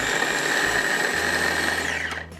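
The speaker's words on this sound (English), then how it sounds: "Just like to get that ground up a little bit to get the rest of the ingredients in there." A food processor whirs steadily as it grinds herbs for green goddess dressing, a loud constant motor hum that winds down and stops near the end, with no talking.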